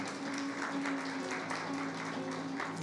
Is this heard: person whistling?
no